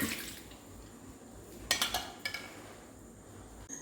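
A short run of liquid from a mixer grinder splashing and dripping, with a couple of quick pouring gushes midway over quiet background hiss.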